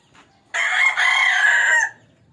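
A native chicken rooster crows once on a rooftop, a loud, close, drawn-out call standing alone with near silence before and after.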